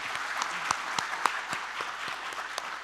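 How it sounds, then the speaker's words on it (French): An audience at a talk on energy transition claps steadily for a few seconds, a dense, even patter of many hands with a few sharper individual claps standing out. "On applaudit Sa Majesté."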